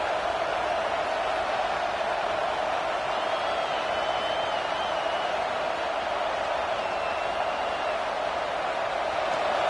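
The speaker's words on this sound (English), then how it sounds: "This crowd trying to make life miserable for this offense." Stadium crowd at an Ohio State versus Michigan football game: a steady, unbroken roar that holds at an even level throughout.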